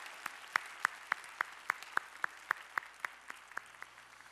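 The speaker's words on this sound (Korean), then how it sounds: "우리의 찬양을 받으실 주님께 영광의 박수 올리겠습니다" Congregation applause at a Korean church Sunday worship service, heard as a steady series of about fourteen sharp, evenly spaced claps at moderate distance with no talking.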